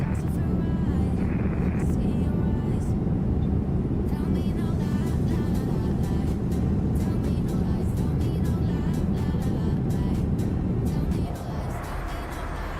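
An Embraer E-Jet in Microsoft Flight Simulator roars steadily on its takeoff run from Seattle runway 16 right, the loud engine noise continuous throughout before easing slightly at the end, with radio chatter over it.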